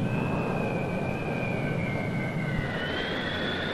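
Jet airliner near a Florida city airport around 1970, a loud continuous roaring whine with a slowly falling high tone, no voices.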